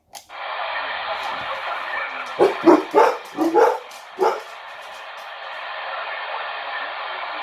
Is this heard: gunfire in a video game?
no